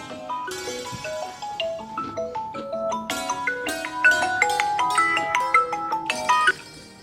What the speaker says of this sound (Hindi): इसका फोन आ रहा है, इसे देख लो।